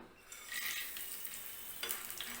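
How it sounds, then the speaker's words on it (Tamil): Dried turkey berries (sundakkai vathal) frying in oil for a Tamil vathal kuzhambu, a faint, soft hissing sizzle with light stirring scrapes, no talking. "இதை வந்து நம்ம இப்போ எண்ணெயில் ஃப்ரை பண்ணிக்கலாம்"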